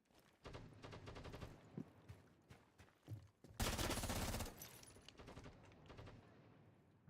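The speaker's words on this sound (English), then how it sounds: "he's shooting somewhere over here" Rapid bursts of gunfire from a first-person shooter game, with repeated shots and a dense, loud volley midway, heard alone without talk.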